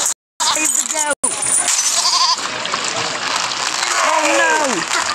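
A goat bleats in a video game, with several wavering cries, the loudest near the end, mixed with splashy game effects and brief dropouts, and someone talks excitedly over them.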